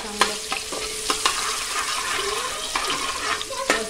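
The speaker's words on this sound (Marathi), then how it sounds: "आपण ह्याच्यामध्ये लसूण चांगलं परतून घेऊया।" Garlic sautéing in hot oil, a close, steady sizzle punctuated by several sharp stirring clicks and scrapes of a ladle against the pan, with no voices.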